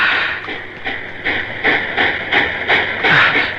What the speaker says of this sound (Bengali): ট্রেন, ওই ট্রেনটি নিশ্চয় করাচি যাবে।